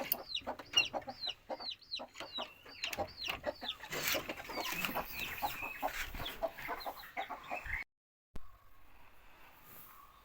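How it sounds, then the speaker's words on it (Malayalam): Chickens cluck in quick, repeated clucks and short squawks, fairly close, with no talking; the sound cuts out briefly near the end. "ഇപ്പോൾ കോഴികളുണ്ട് കേട്ടോ."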